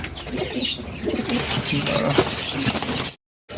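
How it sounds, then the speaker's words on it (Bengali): Fancy pigeons cooing close by, several soft throaty calls overlapping in a busy loft, with faint rustling before a short silence at the end. "দেখে নাও দীপুদার কাছে কি কী কী পায়রা আছে"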